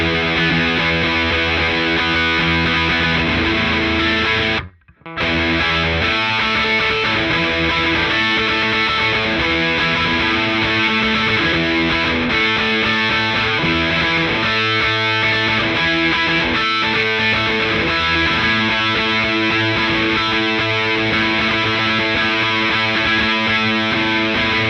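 Electric guitar played through a ProCo Rat distortion pedal with its filter engaged gives a thick, sustained, buzzing distorted tone that rings continuously, broken only by a brief cut near the start.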